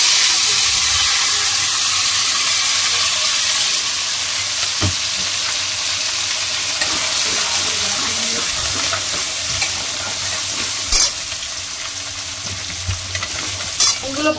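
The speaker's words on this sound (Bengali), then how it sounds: "তেল গরম হয়ে গেছে, তেজপাতা দিয়ে দিয়েছি। এবার এই যে পেস্টটা বানিয়েছি সেই পেস্টটা দিয়ে দেবো।" Spice paste sizzling loudly in hot oil with a bay leaf in a wok, a strong bright hiss that eases slightly, with occasional stirring knocks and scrapes.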